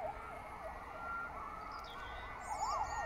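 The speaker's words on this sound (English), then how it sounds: "And here, fire engines and police cars." Wailing emergency sirens from fire engines and police cars cycle steadily up and down, loud and continuous, with a second siren layered in near the end.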